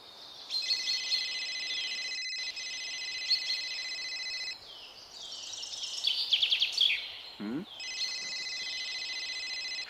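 A phone rings in a Telugu short film scene, sounding as repeated bright electronic ringtone tones that stop briefly midway, with a short chirping sweep, then resume steadily and fairly loud.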